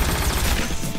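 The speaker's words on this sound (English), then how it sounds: "Proton cannon." Iron Man's proton cannon firing in the fighting game Marvel vs Capcom Infinite, a loud, continuous rapid-fire energy barrage with a heavy, rumbling low end, sustained for about a second before easing off.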